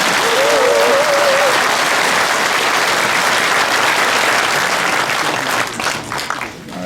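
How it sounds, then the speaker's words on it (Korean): Loud, dense applause from an audience at a Korean patriotic lecture event in 2017, a thick sustained wash of clapping with a brief whistle early on, tapering slightly near the end. "한번 힘차게 감사의 박수를 보내주십시오."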